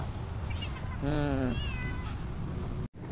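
An adopted cat gives one clear, drawn-out meow at feeding time, heard over a steady rushing background noise outdoors, with people nearby.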